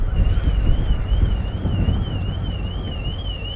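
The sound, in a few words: car alarm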